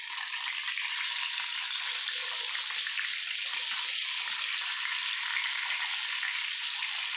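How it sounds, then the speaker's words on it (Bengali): A piece of catla fish fries in a pan after being flipped, giving a steady, bright sizzling hiss with soft crackles throughout, close and constant, with no talking. "দেখো, মাছটা এক পিঠ ভাজা হয়ে গেছে। এখন মাছটা আর এক পিঠ উল্টে দিচ্ছি।"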